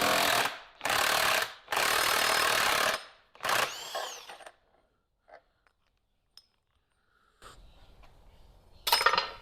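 A power tool, likely an impact wrench, removes nuts from the lower control arm of a 1980 Chevy C10 square-body truck in several loud, close bursts, followed by quiet clinks and shuffling, then one last short burst.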